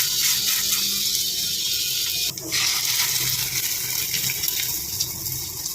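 Pakoras fry in hot oil with a loud, dense, continuous hiss and bubbling that dips briefly once midway, no talking.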